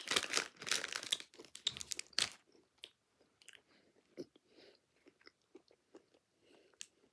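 A crunchy MrBeast Feastables chocolate bar is bitten and chewed close up: loud, crackling crunches in the first two seconds give way to quieter, scattered chewing and soft crinkles.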